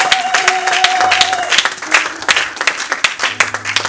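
Church congregation at a Sunday worship service claps in acclamation, loud sharp hand claps over a lingering sustained tone and background murmur, the clapping growing sparser toward the end.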